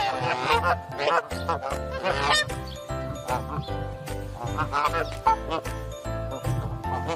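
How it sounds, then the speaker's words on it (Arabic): Goose honking in rapid repeated loud calls, close by, with a busy rhythmic backing underneath. "goose"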